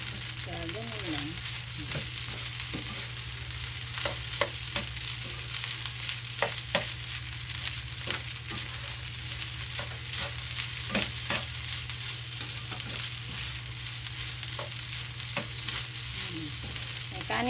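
Sinangag, Filipino garlic fried rice, stir-fried in a pan, with a constant sizzle under repeated scraping and clanking of a spatula, a steady hum underneath throughout.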